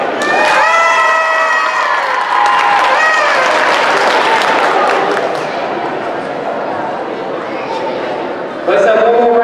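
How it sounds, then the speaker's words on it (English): Crowd applause and cheering with shouts fill a gym at a high school volleyball game between Lovington and Tatum, honoring a senior player; loud and sustained throughout, with an announcer's voice over it. "Let's have one more round of applause for your 2021 Lovington seniors."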